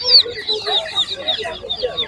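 Domestic hens and roosters, including Cochin birds, cluck and squawk busily at a village animal market, close and loud in a continuous overlapping chatter of several birds, with a voice partly mixed in.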